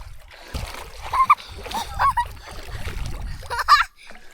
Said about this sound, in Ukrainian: Тепер дитина може накупатися, як і хотіла.